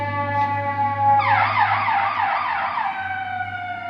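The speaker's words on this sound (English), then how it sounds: "so many sirens go by my new apartment literally at all hours of the day" A loud wailing emergency vehicle siren sweeps up and down as it passes close by an apartment, over a low engine rumble.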